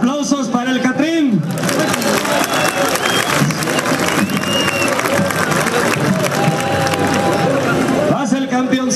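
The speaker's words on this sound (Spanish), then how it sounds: "Aplausos para el Catrín." Crowd applause and cheering at a jaripeo rodeo at the Iguala fair in Guerrero, a dense roar filling the stretch between an announcer's loud amplified talk at the start and end.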